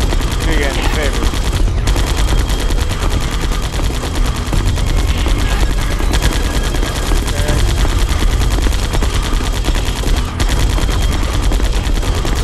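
Dense, continuous gunfire from the Metal Gear Solid: The Twin Snakes game, a relentless loud rattle of rapid shots and explosions with no pause across the whole stretch.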